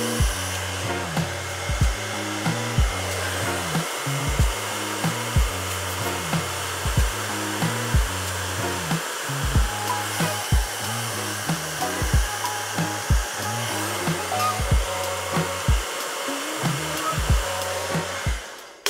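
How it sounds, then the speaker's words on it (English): A hair dryer on warm and high blows with a constant whooshing roar, its airflow pulsing rhythmically as it is moved about, close and loud for the whole stretch. "And I'm just using my usual blow dryer."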